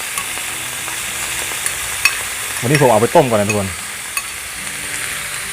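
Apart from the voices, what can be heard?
stir-frying beef with red curry paste and pickled bamboo shoots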